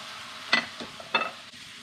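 Diced shiitake mushrooms are stirred into a beef bun filling in a pan: two short scraping strokes over a faint background sizzle.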